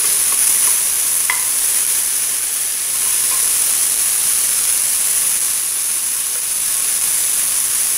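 Chopped bell pepper and a small chopped tomato sizzle steadily in a hot pan, a constant bright hiss with occasional faint scrapes and clicks of stirring, no voices.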